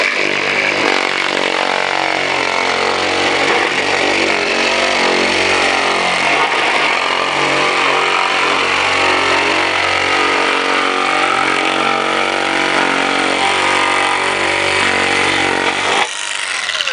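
Cordless electric metal shears cut sheet metal while a car fender is shaped, giving a loud, steady, buzzing motor whine that runs unbroken for about sixteen seconds before cutting off abruptly.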